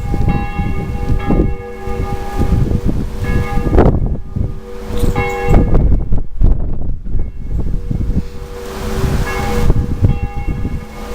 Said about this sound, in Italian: E ora sentiamoci in diretta le campane di San Giacomo